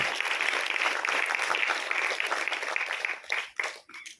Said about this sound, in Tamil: மீண்டும் ஒரு முறை அவருக்கு உங்களின் கைத்தட்டல்கள் உண்டாகட்டும்.